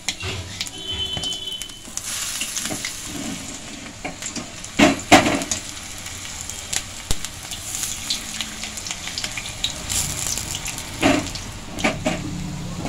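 Tamarind-flavoured urad dal vadas sizzle steadily in hot oil, a continuous crackling fry with a few sharper pops and bursts scattered through it.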